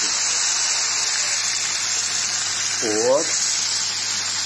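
Plain water poured into a cooking pot makes a steady, close rushing hiss that runs throughout, with a short spoken word near the end.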